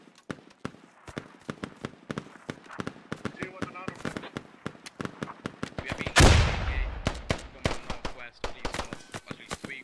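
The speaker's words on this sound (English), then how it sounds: "Someone's firing with a pistol over here." Gunfire in the Squad military shooter: a long run of sharp, separate pistol and rifle cracks at uneven intervals, with one heavy, loud blast partway through. Some shots are close and others farther off.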